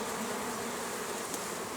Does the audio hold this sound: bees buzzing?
yes